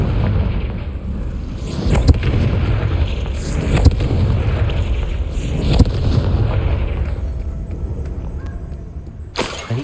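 In the video game Hogwarts Legacy, a Confringo blasting spell sets off several loud explosive booms over a continuous rumbling roar, with a final sharp burst at the end.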